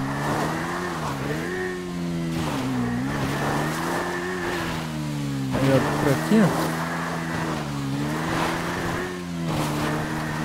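Motorcycle engine in GTA 5 Online droning steadily with rising and falling revs, a brief throttle burst midway, heard under someone speaking.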